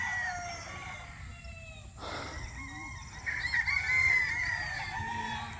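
Gamecock stags on a farm crow in overlapping calls amid clucking fowl and steady outdoor background noise, some near and some farther off.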